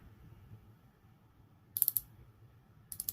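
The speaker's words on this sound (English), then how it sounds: "Unidirectional bezel." Sharp ratcheting clicks from the unidirectional bezel of a Squale Militaire 1521-026-MIL-P dive watch being turned, two short bursts of rapid clicks, close and crisp against a quiet room.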